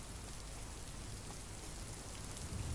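In the game TONIN Bunny Kunoichi, continuous rainfall pours down as a broad, unbroken hiss of drops striking surfaces, steady in level with no voices over it.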